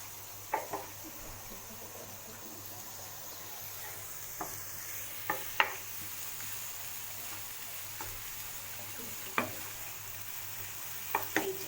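Onion softens in a hot pan with a soft, constant sizzle, broken by a few sharp clicks and scrapes of stirring spread across the stretch, with no talking.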